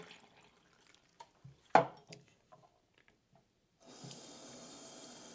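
A short splash and trickle of water being poured out of an ultrasonic cleaner used for makeup brushes, then a steady faucet-like rush of running water begins and continues.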